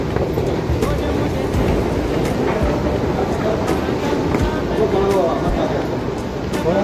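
A Doha metro train arrives at a deep underground station with a loud, steady rolling roar and rumble that fills the space and masks a voice talking underneath.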